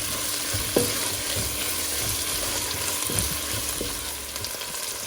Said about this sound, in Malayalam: തക്കാളിയും കൂടെ ചേർത്തിട്ട് നന്നായിട്ടൊന്ന് വഴറ്റിയെടുക്കാം.